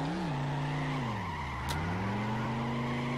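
A car drifts in CarX Drift Racing with a steady engine drone whose pitch dips and rises, tire squeal running continuously underneath at a constant loud level.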